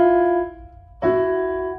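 Two sustained piano notes, the second struck about a second in, ringing together in a clashing, sour-sounding interval.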